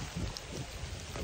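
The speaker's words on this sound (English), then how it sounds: "The rain is coming in and lightning" Rain falls outdoors near raised garden beds in a steady patter, with low rumbling thunder pulsing underneath, fairly faint and brief, with no voices.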